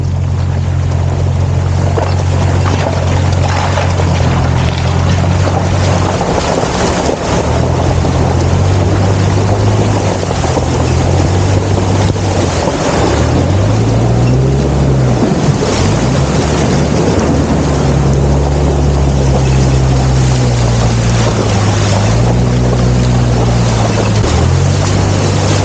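A motorcycle engine drones and shifts pitch while crossing a deep, fast-flowing stream on a mountain road in the Astore Valley, with rushing water and wind noise throughout, loud and close.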